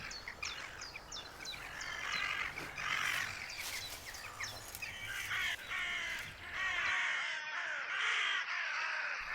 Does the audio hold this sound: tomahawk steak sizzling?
no